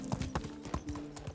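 Horse hooves clip-clop at a brisk, even rhythm in the game Medieval Dynasty, a close series of sharp knocks with no talk over them.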